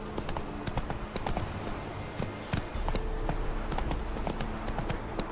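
Roach the horse gallops in The Witcher 3, with a rapid, steady clip-clop of hooves running continuously and close.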